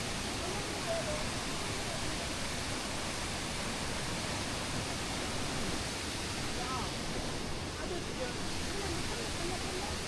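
A waterfall rushes with a constant, broad, steady roar that stays even throughout, heard from fairly close along a stepped descent through rocky, forested surroundings.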